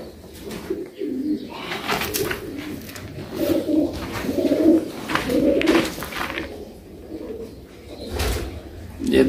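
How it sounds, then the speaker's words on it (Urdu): Pigeons coo in soft, throaty bursts, several birds close by with overlapping rolling calls and a few faint knocks in the background. "یہ سارے اڑن والے کبوتر ہیں"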